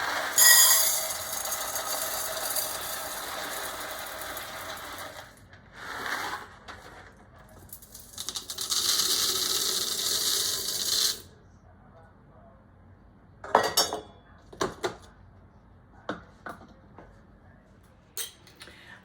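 Dry elbow macaroni pours into a glass jar with a dense, gritty rattling rush that runs for several seconds in two bursts, followed by a few isolated clinks and taps of pasta settling.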